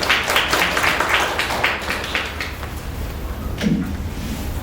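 Applause from the audience at a Korean women's policy forum on the 21st presidential election, a dense steady patter of many hands that fades toward the end, followed by a brief thump.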